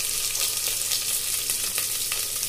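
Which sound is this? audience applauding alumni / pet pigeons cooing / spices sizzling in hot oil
spices sizzling in hot oil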